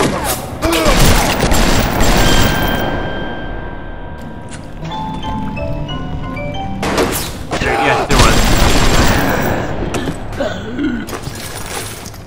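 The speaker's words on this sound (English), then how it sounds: "There was someone shooting me" Gunfire in the video game Bioshock, with bursts of sharp shots and booming impacts amid mechanical clatter and game sounds, loud and close, with voices talking over parts of it.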